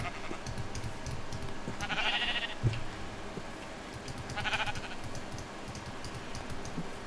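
Two bleats from a Minecraft sheep ring out a couple of seconds apart over a busy background of game clicks and key taps.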